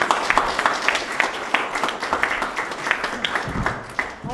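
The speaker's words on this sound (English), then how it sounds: "Big round of applause, please." An audience at a health care forum applauds steadily, many hands clapping in a dense, fairly loud patter that continues throughout.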